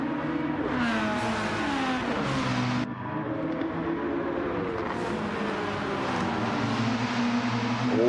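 An onboard racing car engine screams continuously in a classic DTM sim racing game at Brands Hatch, its loud, rasping pitch rising through the revs, dropping at a gear change, then climbing again.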